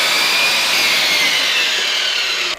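A Lumberjack SCMS305DB mitre saw with a dual laser cuts through wood with a loud, steady, high-pitched whine that runs unbroken for over two seconds, then drops away sharply at the end.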